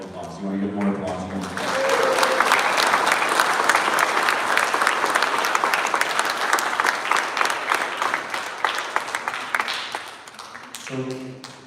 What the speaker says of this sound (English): They deserve all the applause. You want to get more applause?